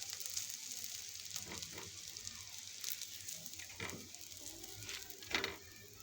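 Burger buns toasting in a hot pan as they are turned over, giving a soft, steady sizzle with a few faint scrapes, close and fairly quiet throughout.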